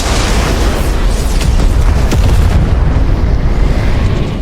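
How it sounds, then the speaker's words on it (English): A devastating explosion in a war movie destroys a mining facility and a destroyer, a loud continuous roaring blast with rumbling debris that holds steady for several seconds before beginning to fade. "The mining facility and destroyer were destroyed by the devastating explosion."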